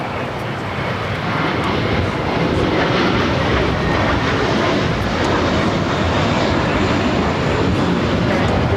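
An American Airlines Airbus A321 at LAX roars steadily with broadband jet engine noise, swelling after the first second and holding loud and constant throughout, with no voices.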